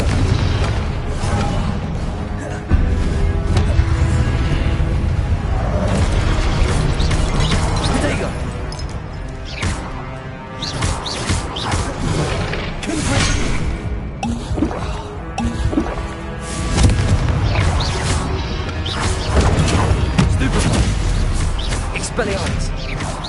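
Repeated Confringo fire-spell explosions in Hogwarts Legacy, punchy booms and crashes scattered through a busy magical duel, with a voice shouting spell names throughout.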